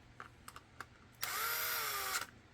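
A power drill whirs steadily for about a second, driving 3/4 inch screws into a handgun holster, after a few light taps and clicks, close and moderately quiet, with no voices.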